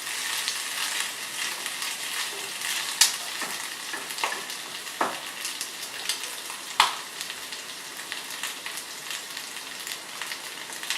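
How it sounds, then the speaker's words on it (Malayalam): Ginger and garlic frying over a medium flame for Kerala-style beef thattikkoottiyath, a soft steady sizzle broken by a few sharp scrapes and clinks as a spoon stirs the pan, with no talking. "വേറെ നന്നായി ഇളക്കി കൊടുക്കുക. ആ ഇഞ്ചിയുടെയും വെളുത്തുള്ളിയുടെ ഒക്കെ അത് പച്ച മണം ഒന്ന് മാറിക്കിട്ടണം."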